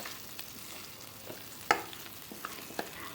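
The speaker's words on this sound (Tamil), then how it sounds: "நல்லா வதக்கிக்கோங்க, கருக விட்டுறாதீங்க, டேஸ்ட் மாறிடும்" Pirandai stems for chutney fry in a pan with a soft, steady sizzle, broken by a few clacking stirs of a spoon against the pan, close and with no talking.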